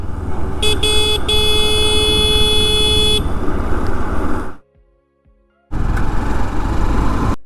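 A car overtakes other vehicles on a bend of a country road near Kolhapur, with loud close engine and road rumble and a sustained horn blast, then a sudden break before the steady roar resumes.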